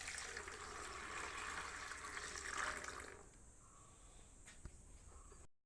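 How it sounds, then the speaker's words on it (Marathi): Water poured over freshly caught river fish being washed, a steady broadband splashing rush for about three seconds, then quieter trickling with a faint high tone lingering until it stops. "तर मंडळी आता मी पाणी घालते"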